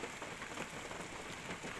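Heavy rain falls steadily on a muddy site where a Kobelco SK200 excavator is stuck, a constant dense hiss of drops hitting surfaces with no voices.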